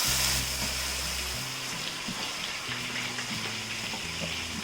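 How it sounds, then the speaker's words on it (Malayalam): Washed, drained rice stirred into frying chicken in a pan, a steady close sizzle with wet spattering and scraping under a faint constant hum. "ഇനി നമ്മൾ ഈ കഴുകി ഡ്രെയിൻ ചെയ്ത് വെച്ചിരിക്കുന്ന അരി ഇതിലേക്ക് ഇട്ടിട്ട് ഒന്ന് ഇളക്കി കൊടുക്കാം."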